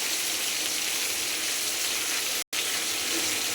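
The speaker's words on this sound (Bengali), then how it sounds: "এবার আমি দিয়ে দেবো জল, এর মধ্যে" Water pours steadily into a pot of bhuna khichuri, a dense continuous rush with one brief break near the end, no voices.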